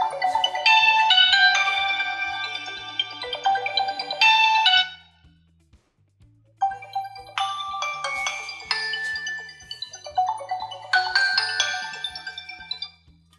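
Smartphone ringtone or alarm stopped with the fingerprint scanner: a bright, melodic electronic tune plays loudly, cuts off abruptly with a short silence, then a second ringing melody follows, close and clear with no talk.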